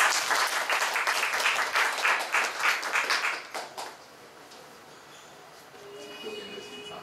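Audience applause greeting a physician invited to speak at a panel discussion, loud, dense clapping for about four seconds that fades out, followed by quiet room tone.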